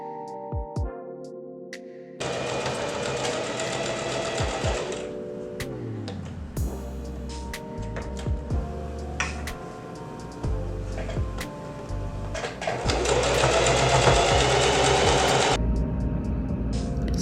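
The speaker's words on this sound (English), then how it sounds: "Now I'm just adding the elastic back onto the bottom half of the dress" A sewing machine stitching elastic onto the bottom half of a thrifted dress runs in a loud, steady whirring hum near the mic, with brief pauses and a couple of speed changes, and no talk.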